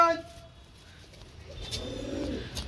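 Soft, low pigeon coos rise faintly near the end after a brief sharper sound at the start, quiet and close.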